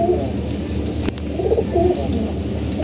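Pet pigeons coo close by in a steady series of soft, rolling throaty calls, with a faint background hum and no speech.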